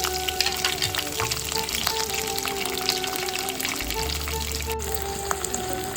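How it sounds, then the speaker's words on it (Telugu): Onions and green chilies sizzle and crackle steadily in hot oil while cooking gongura dal, a continuous frying hiss with occasional pops close by. "ఇవి వేగాక ఆనియన్, పచ్చిమిర్చి వేసుకోవాలి."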